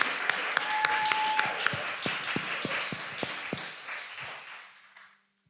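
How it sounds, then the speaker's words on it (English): An audience at a Black writers' festival panel on Black environmentalists applauds the panelists, with clear individual claps in a steady round that gradually thins and fades to silence. "Can we give a round of applause to our panelists?"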